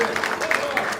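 A church congregation at a Catholic Mass applauds in worship, a brief burst of many hands clapping in a reverberant hall, with a voice murmuring faintly underneath.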